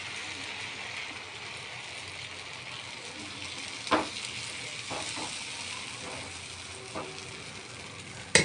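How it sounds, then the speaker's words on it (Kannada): Jowar millet dosa batter sizzles steadily on a hot pan, a constant hiss with a few soft scraping knocks and clicks from the utensil. "ನಾನಿವಾಗ ದೋಸೆ ಹಾಕ್ತಾಯಿದ್ದೀನಿ ನೋಡಿ."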